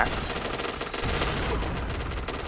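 Rapid shotgun fire in the online shooter Point Blank, a dense burst of blasts packed close together and loud throughout with no pause.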